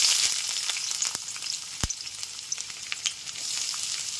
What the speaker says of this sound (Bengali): গ্যাসের ফ্লেমটা মিডিয়ামে রেখে পেঁয়াজ কুচিগুলো হালকা লাল করে ভেজে নেব